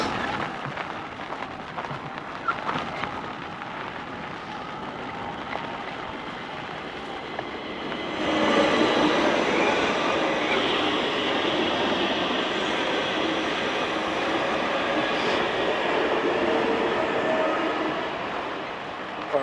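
A train passing heard while walking with a squeaky Lynx, a broad rumbling roar that swells sharply about halfway through and stays loud and steady, with no talk over it.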